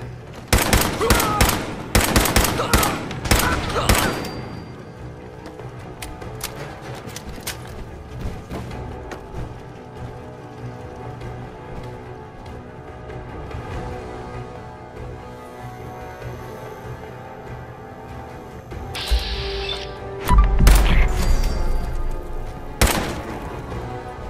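Gunfire in the Fallout 4 video game: a rapid, loud volley of shots opens, then scattered quieter shots continue, and another heavy burst with a deep boom comes near the end.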